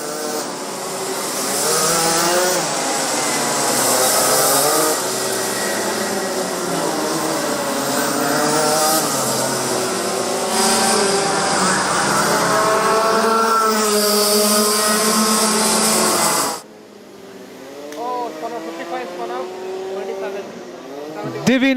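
Rotax Max racing karts at a national karting championship track: loud, buzzing two-stroke engines whine and rise and fall in pitch as a pack passes close, then fade abruptly to a thinner, more distant kart drone, with a commentator talking over it.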